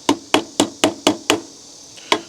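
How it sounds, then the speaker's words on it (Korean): Hammer blows land on a Renault Samsung SM5 car: six sharp, evenly spaced knocks close by, a pause, then one final strike, loud and percussive with no talking. "망치 나왔죠."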